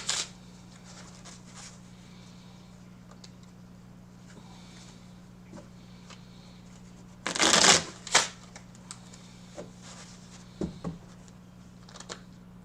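Two decks of new playing cards riffled by hand: one short close burst of shuffling followed by a quick second flutter, then a few faint taps and handling noises over a low steady hum, with no voices.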